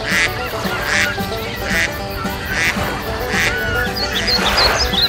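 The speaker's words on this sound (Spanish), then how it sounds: "Mira los patos." Ducks quacking loudly and close by, with a series of repeated nasal quacks coming in a steady rhythm over a constant background hum, and no talking.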